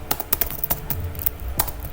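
Keys clatter on a computer keyboard as a shell command is typed into a Linux terminal, about ten quick, uneven clicks close by over two seconds with no talking.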